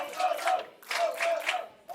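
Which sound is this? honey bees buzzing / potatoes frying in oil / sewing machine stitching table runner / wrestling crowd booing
wrestling crowd booing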